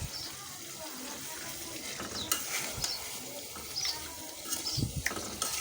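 Duck meat with onions and spices is stir-fried in a pan, a quiet sizzle broken by clattering spoon scrapes and stirring knocks at irregular intervals.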